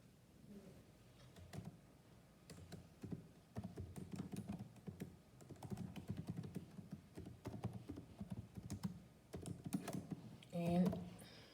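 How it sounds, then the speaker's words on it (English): Rapid clicking keystrokes on a computer keyboard while entering text in word-processing software, in steady bursts with brief pauses, close and fairly quiet, ending in a louder clatter. "and then you type your text."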